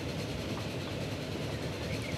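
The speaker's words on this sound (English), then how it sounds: "Another train." A passing train in the Transport Fever video game rumbles steadily, with a dense wash of rolling rail noise that stays even throughout and no voices.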